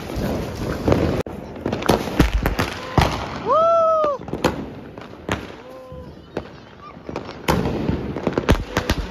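A 12-shot Diwali firework cake goes off outdoors: a run of sharp bangs and crackling bursts, with whistling shots rising between them and voices talking and cheering throughout.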